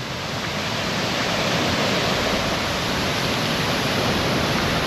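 Bisibis Falls in Mauban, Quezon pours down in a powerful, unbroken roar of rushing water, loud and close, with no pauses or voices over it.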